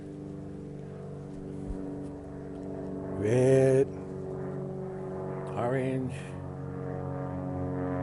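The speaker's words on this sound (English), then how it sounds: "Another plane going over." A propeller airplane drones overhead in an outdoor painting setting, its engine tone rising and sweeping in two passes under a man's speech.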